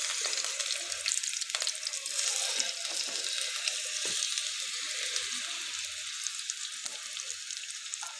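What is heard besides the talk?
bread burgers frying in a pan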